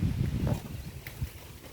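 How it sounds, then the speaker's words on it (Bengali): Strong wind blows outdoors past a home garden with tin sheets and banana trees, gusting in uneven rumbling bursts close to the microphone. "কি বাতাস হইতেছে।"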